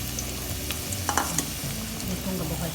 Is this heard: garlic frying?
yes